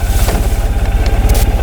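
A 2013 Ural Adventure Patrol motorcycle engine throbs in a steady, rapid low pulse close by as the rider shifts down to second gear, with no voices.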